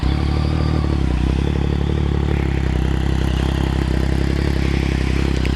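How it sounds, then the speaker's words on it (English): A 2014 Yamaha FZ-09 motorcycle with an aftermarket M4 exhaust idles steadily up close, its three-cylinder engine giving a loud, constant, throaty rumble with a fast mechanical pulse and no voices. "let's start it up real quick just to see what it sounds like"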